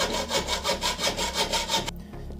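Wood being sawn by hand to trim down a piece for a steampunk-style fridge conversion: about nine steady, rhythmic back-and-forth strokes, close and loud, stopping abruptly near the end with no voices.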